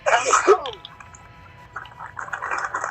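A single quick, wet sneeze bursts out at the start, close and loud, followed by a pause and then people talking.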